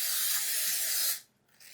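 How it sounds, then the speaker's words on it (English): Olive oil cooking spray hisses steadily onto a baking dish in one continuous close burst of about a second, then cuts off into near silence. "So I have olive oil spray"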